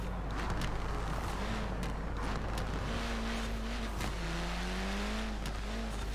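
A Renault Clio Williams racing in Forza Horizon 4, its engine droning and revving steadily with gear changes and shifting pitch, loud and continuous with no talk over it.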